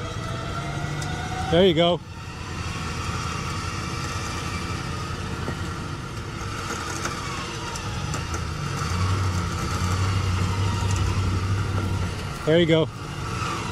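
A truck engine runs steadily while off-roading in Texas Hill Country, a continuous low rumble that builds slightly as it is given gas, with people talking over it.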